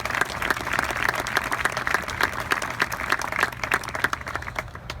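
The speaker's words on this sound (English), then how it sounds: "Let's give them all a round of applause," An audience applauds at a 2016 Gerald R. Ford Museum address, recognising civically engaged students with steady, dense clapping from a full crowd that fades slightly toward the end.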